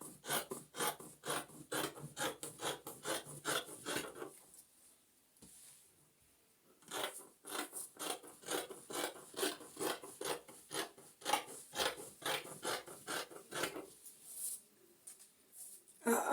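Scissors snipping through fabric while cutting out a kaftan (bubu gown), a steady run of close, rhythmic rasping cuts with a short pause midway, then the cutting resumes.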